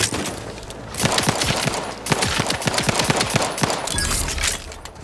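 Gunfire in Outer Worlds 2: bursts of rapid, loud shots cracking in quick succession, with a short pause near the middle and a final cluster toward the end, followed by a deep rumbling tail.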